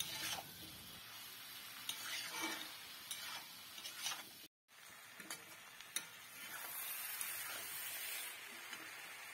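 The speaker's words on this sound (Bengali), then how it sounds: "এখন এর মধ্যে দিয়ে দিচ্ছে বাঁধাকপি, একসাথে সবগুলো ভালোভাবে ভেজে নেবে।" Shredded cabbage fries with fish heads and spices in a pan, giving a steady sizzle broken by stirring scrapes and taps, with a brief cut of silence midway.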